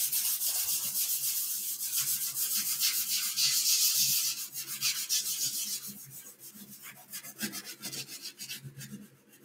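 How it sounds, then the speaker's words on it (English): Sandpaper of 180 grit rubbing over the painted foam of a Freewing F-14 Tomcat model plane, a long run of close, rapid scratchy strokes that ease off in pace toward the end, with no talking. "So I'm using a 180 grit sandpaper."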